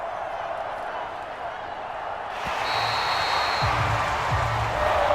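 Home crowd applauding in a football video game, a broad wash of clapping and cheering that swells midway and stays steady, with a few thuds and squeaks mixed in.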